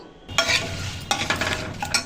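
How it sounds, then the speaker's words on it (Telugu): Turmeric and curry leaves fry in hot oil as a tempering for raw tamarind soup, with close sizzling bursts as ingredients hit the pan and stirring scrapes between them. "పసుపు కొంచెం ఒక టూ మినిట్స్ మనం ఇట్లా నూనెలో వేపుకోవాలి"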